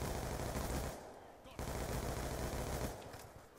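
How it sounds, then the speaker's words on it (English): Rapid bursts of automatic gunfire in Black Ops 2 multiplayer, a dense continuous rattle broken by a short pause, heard fairly quiet in the game mix. "One bullet shot to the freaking back."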